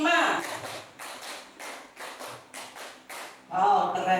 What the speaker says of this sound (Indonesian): Tepuk 5. Tepuk 5. 2 kali tepuk 5.